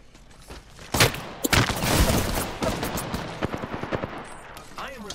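Gunfire in Apex Legends, loud bursts of rapid automatic shots and single cracks that rise after a second and thin into scattered shots, with a person talking over it.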